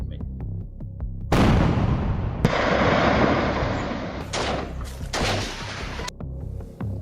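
After a low hum, a sudden loud IED blast from underground erupts into a sustained roaring rumble that surges again before fading.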